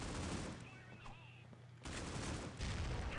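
Bursts of gunfire in the mobile shooter Critical Ops during a tournament round, repeated dense volleys from mid-range, heard under steady commentary.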